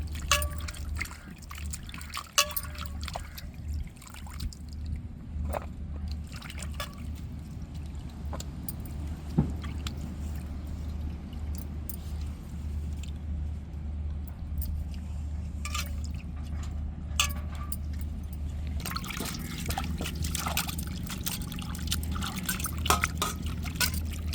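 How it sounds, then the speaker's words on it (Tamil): Soaked salted dried fish, salai karuvadu, is rinsed in water by hand, giving a steady stream of close drips, trickles and splashes with occasional clinks over a low background hum, and no talking. "நல்லா நம்ம அலசி எடுத்துக்கிறணும்."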